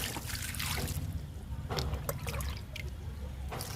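Liquid fertilizer poured from a container onto vegetable plants, including a ridge gourd vine, in a home garden: a close, splashing trickle with several bursts of dribbling and gurgling liquid.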